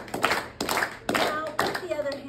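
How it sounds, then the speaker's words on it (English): Four sharp hand claps in a slow, even rhythm, close and loud, with soft sounds trailing after each clap. "just clap."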